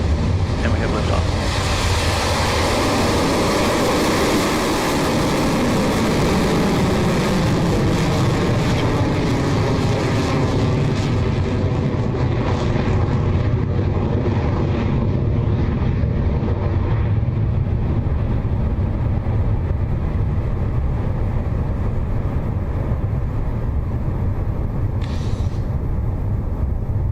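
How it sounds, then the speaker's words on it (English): Rocket Lab Electron rocket lifting off from the pad at Launch Complex 1 at night, a dense, continuous roar that stays loud and broadband throughout, fading slightly toward the end. "our 45th Electron is now in the air, having successfully lifted off the pad at Launch Complex 1"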